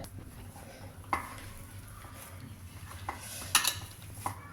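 Potato filling for ragda pattice being mixed in a pot, with soft scraping, a few sharp utensil clinks against metal and a brief cluster of bright clinks near the end, close and fairly quiet.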